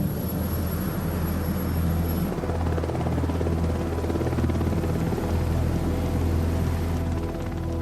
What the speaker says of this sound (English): The classic search and rescue helicopter is the Sea King.